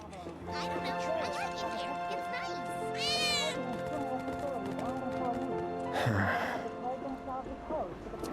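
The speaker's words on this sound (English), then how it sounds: "one of Betty's cats might be near" Cat meows from a video game, a couple of rising and falling cries heard over layered game music and effects, moderately close.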